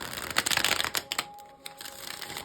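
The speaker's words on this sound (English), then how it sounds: "look at what card moves while I'm shuffling." Playing cards are riffled in quick, crisp bursts, close up, with a brief pause between shuffles.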